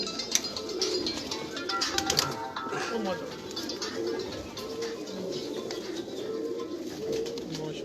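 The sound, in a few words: pigeon cooing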